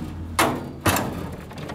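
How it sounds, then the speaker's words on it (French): Two sharp knocks close by as a metal cable car cabin door is pulled shut, in Chiatura, Georgia, followed by quiet room tone. "Ferme la porte."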